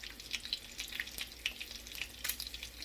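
Bacon frying in a pan, a soft crackle of small spitting pops and grease bubbles, faint and continuous.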